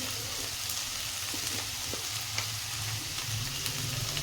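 Cauliflower curry fries in hot oil in a pan, a steady close hiss and sizzle with faint stirring scrapes underneath, and no one speaking.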